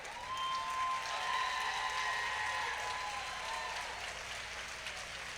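An audience claps for teachers and education workers at a Contra Costa County Teachers of the Year ceremony, a steady, moderately distant round of applause that rises and holds throughout.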